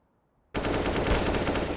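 Sustained automatic AK rifle fire in CS:GO on the Nuke map during a ramp push, bursting in loud and continuous after half a second of near silence and rattling on steadily to the end.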